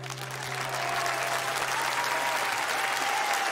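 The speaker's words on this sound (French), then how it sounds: "Un tonnerre d'applaudissements pour cette merveilleuse chorale" A large audience gives sustained, swelling applause for a choir after a performance of songs; the clapping builds quickly and holds as a broad, steady roar.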